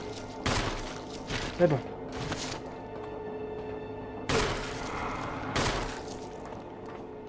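Gunfire in the Resident Evil video game: several loud bursts of shots heard close, spread across a few seconds over game background noise, with a brief spoken remark.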